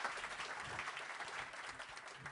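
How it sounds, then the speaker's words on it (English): Audience applause at a ski federation forum in Paris, an even, moderately quiet patter of many hands clapping that continues briefly without speech. "Great applause."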